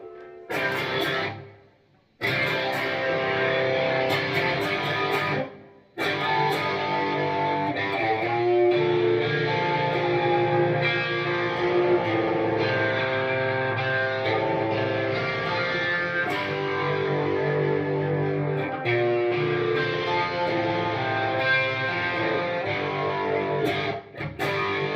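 Heavily distorted hard rock electric guitar with reverb added, playing chords and riffs loud and close. A couple of brief gaps fall near the start, and the reverb tail fills out the sustained notes.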